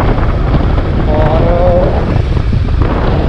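Steady, loud wind buffeting a microphone on a Yamaha MT-15 motorcycle ride through cool fresh air, a broad roar filling the whole clip with a brief spoken word over it.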